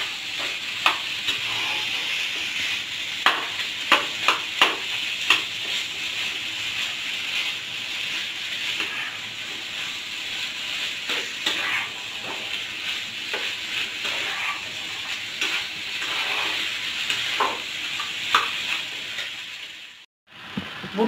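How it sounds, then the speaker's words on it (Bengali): Chickpeas with spices stirred in a frying pan, a continuous sizzle with repeated scraping and clattering strokes of the spoon, close and fairly loud, with a brief dropout near the end. "এবার বুট দিয়ে সব মশলার সঙ্গে আমি নেড়ে মিশিয়ে দিব।"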